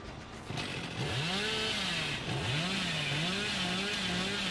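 A revving chainsaw from the video game Dead by Daylight, with a loud, steady engine drone whose pitch rises and falls in wavering sweeps, close and continuous, heard alone without talking.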